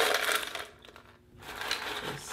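Frozen green beans poured into a rice cooker steaming tray make a rattling, clattering cascade, a brief pause, then a second scattered pour of hard pieces.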